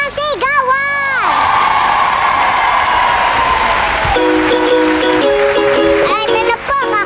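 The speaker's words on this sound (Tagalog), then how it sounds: "palakpakan na may kasama sigawan!" A studio audience at a TV variety show, many of them children, bursts into loud cheering, shouting and clapping, with high whoops and excited voices rising over a constant crowd roar.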